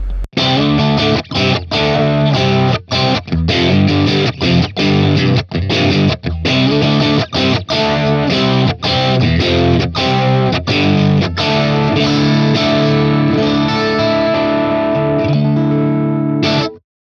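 Distorted electric guitar chords ring out through a Tonex capture of an Fman IR-D amp with reverb turned up, strummed in a steady rhythm with a washy reverb tail, loud and alone.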